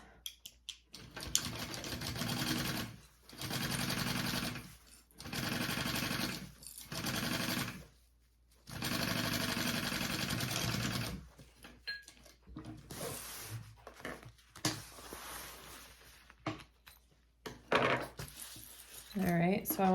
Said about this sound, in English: All right, so I'm gonna baste this on first and then add my